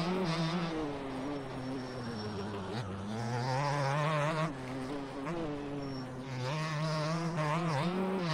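A two-stroke dirt bike idling in a motocross racing game at Redbud, a buzzy, wavering engine drone with small dips and rises in pitch, steady and fairly close.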